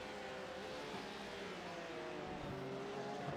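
Porsche race cars lap Circuit of the Americas (COTA) in a sim racing game, a steady droning engine tone holding close and even across the moment, with faint voices in the background.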